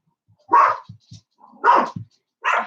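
A dog gives three sharp, close barks with soft whimpers and yips in the gaps between them, loud against an otherwise quiet room.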